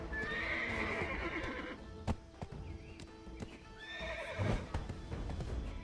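A horse in Black Desert Online neighs and whinnies, with hooves clip-clopping and brief thumps, moderately close against a quiet game background.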